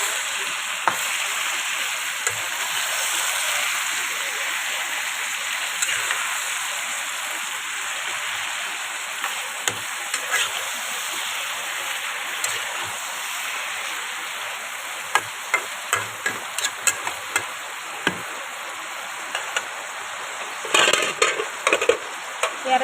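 Local chicken curry with cardamom is stirred in a pot over a steady sizzle, with scattered scrapes and clinks of the spoon against the metal growing more frequent toward the end; no one speaks.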